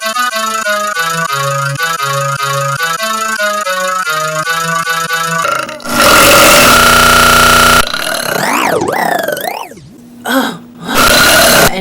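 A girl burping: long, loud, pitched belches, heavily edited and remixed into repeating tone patterns, followed by harsh, distorted bursts with abrupt cuts.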